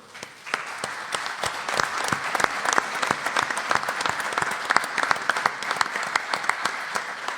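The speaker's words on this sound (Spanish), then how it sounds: "y para ellos pido un fuerte aplauso" An auditorium audience at a book presentation for a theatre play gives a strong round of applause, dense sharp claps sustained for several seconds.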